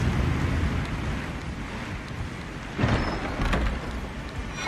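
Rushing water from a waterfall in the video game Elden Ring roars as a broad, steady wash, loud and continuous with a slight surge near the end.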